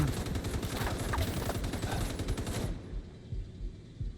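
Sustained rapid machine-gun fire from heavy gunner enemies in a shooter video game, dense bursts that cut off abruptly partway through, leaving scattered faint thuds afterward.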